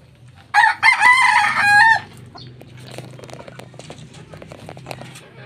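A Red Kelso rooster lets out a loud, close crow, followed by quieter backyard farm noise and scattered clucking in the background.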